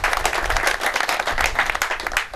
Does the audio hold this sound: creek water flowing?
no